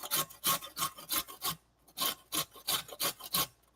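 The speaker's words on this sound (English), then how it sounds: "Just cut the top off of a carrot and then grate it just like this." Carrot grated on a box grater, a run of rhythmic rasping strokes about twice a second, with a brief pause midway before the scraping resumes, close and without speech.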